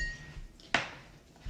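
A single sharp clink of a spoon against a cup while hot chocolate is stirred, brief and fairly close, with faint quieter tinkles around it in an otherwise calm room.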